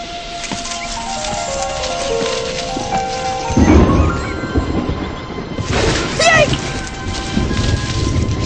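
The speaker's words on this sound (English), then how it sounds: "Ooh, a storm and good storm." Thunderstorm with rain in a Winnie the Pooh cartoon: a steady rain hiss with a loud thunder crash near the middle and another rumble later, plus brief descending tones and a short vocal exclamation.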